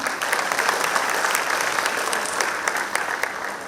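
A cultural-programme audience gives dance performers a burst of loud, dense applause, many hands clapping steadily and close for several seconds without pause.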